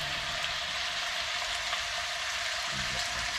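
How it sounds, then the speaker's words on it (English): Bacon sizzles and crackles steadily in a skillet at a hunting camp, a continuous close frying hiss with no talking. "Bacon cooking 101."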